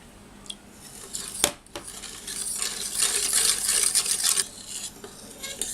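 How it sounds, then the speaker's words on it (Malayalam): Sugar being stirred into milk in a bowl for caramel pudding, a spoon scraping and clinking against the vessel in quick, uneven strokes, close and fairly loud, with no talk. "ആദ്യമേ ഈ പാലിലേക്ക് 1/2 കപ്പ് പഞ്ചസാര ചേർത്തിട്ട് നന്നായിട്ട് ഇളക്കിയെടുക്കാം"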